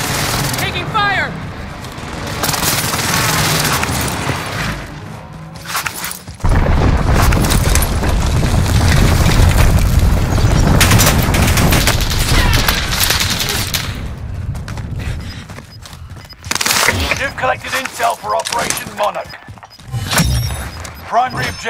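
Call of Duty Warzone gameplay fills with rapid gunfire bursts and heavy booming explosions, a dense loud battle mix that drops out briefly, with voices talking over the action.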